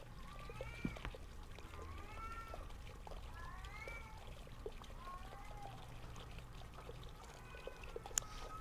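A cat wails in the scary video game Erie, drawn-out rising and falling meows repeating several times over a faint low background hum, fairly quiet and without talk.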